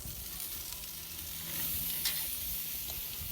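A ribeye steak sizzles on a grill just after being flipped: a soft, continuous frying hiss that swells slightly partway through, with no one talking.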